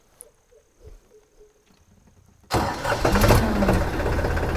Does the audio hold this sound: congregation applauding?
no